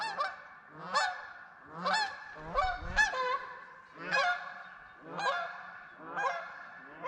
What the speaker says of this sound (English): Oh, gotta show some geese.